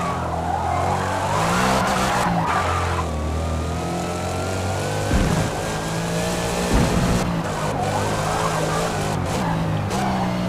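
Shelby GT500 2020 in a racing video game, skidding with a steady engine drone and tire squeal that runs continuously and loud through the whole stretch, no talk over it.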